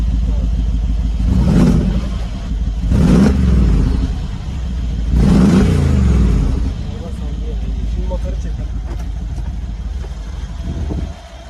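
Mercedes G63 AMG engine revved a few times, three deep swelling bursts of low rumble over a steady idle, with talking in the background.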